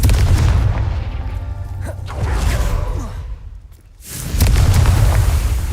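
Confringo spell explosions in the video game Hogwarts Legacy, loud, deep booming blasts with whooshing rumble that fades briefly before another heavy boom erupts.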